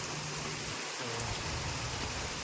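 Heavy rain pours outdoors in a steady, dense, unbroken hiss that fills the whole stretch, close and loud with no voices.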